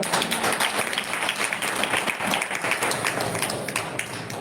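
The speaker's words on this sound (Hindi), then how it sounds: "तालियां बजाएं प्रभु।" A church congregation claps during a Hindi-language worship service: continuous, fairly loud group clapping with an uneven rhythm that carries through the whole stretch, with no speech over it.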